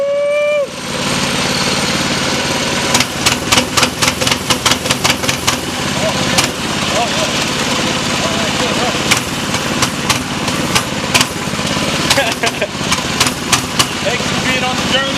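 Predator 224 engine running on a Coleman CT200U-EX minibike, idling steadily and loud up close with repeated sharp revving bursts, while people talk over it.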